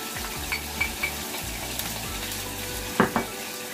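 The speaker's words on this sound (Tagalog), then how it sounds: "I'm going to saute the tomato for 5 minutes" Tomatoes sauté in a pan with a quiet, steady sizzle, broken by a few light scrapes and stirring clicks and two sharper utensil knocks near the end.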